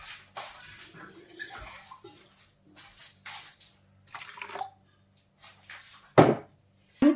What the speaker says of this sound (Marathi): तर आता आपल्याला याच्यामध्ये ऍड करायचं आहे पाणी आणि